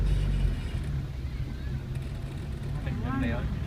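A car engine drones under a steady roar of road and wind noise during a driving lesson on a hill, holding a low, continuous rumble while the driver shifts gears, and voices speak over it.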